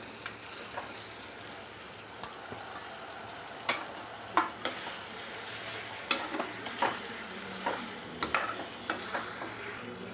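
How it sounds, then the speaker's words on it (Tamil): Cooked brinjal is stirred into sizzling masala in a pan, a steady frying hiss broken by repeated spatula scrapes and clacks at an irregular pace, close by and with no talking. "இந்த ஸ்டேஜில் இந்த வெந்த கத்திரிக்காயை போட்டுடுறேன்"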